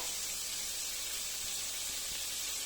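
Prawns sizzle in a pan with green vegetables and noodles, giving a faint, continuous, even hiss with a few soft low knocks underneath.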